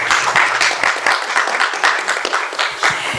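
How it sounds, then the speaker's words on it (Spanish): Audience applause at a book presentation during the Bogotá International Book Fair, a dense, steady wash of many hands clapping that fills the room for several seconds without pause. "recibámoslos con un fuerte aplauso"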